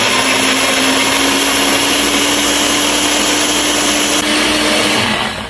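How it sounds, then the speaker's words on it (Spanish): A kitchen blender grinds an oat and blueberry pancake batter with egg, a loud steady whirring drone that runs continuously before winding down at the end. "vamos a moler la mezcla para la avena."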